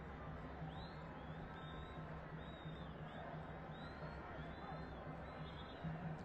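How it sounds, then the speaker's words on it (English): Packed football crowd at Rufaro Stadium during a Zimbabwe Defense Forces select match, a steady, distant roar of murmur and cheering with repeated high horn or whistle blasts over it. "There is the crowd here at Rufaro Stadium, filled to the brim"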